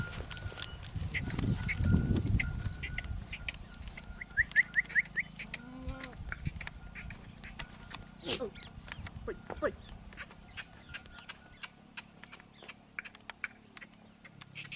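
Sirohi goats on a farm in Nagaur, with animal calls and bleats rising over outdoor farm noise, hoof-like clatter and someone talking nearby.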